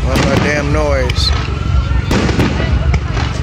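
Fourth of July fireworks burst loudly near a casino, with sharp cracks and booms in quick succession while people talk and shout close by.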